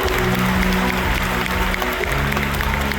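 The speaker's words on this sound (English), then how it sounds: "let's give the beluga whales another round of applause" Audience applause at SeaWorld San Antonio's Whale and Dolphin Stadium for a beluga whale show, a steady dense wash of clapping that holds loud throughout, with a low hum beneath.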